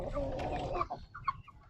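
A backyard rooster, a 'golden boy' kept with a few other fowl, gives several short, soft clucks at close range against faint background noise.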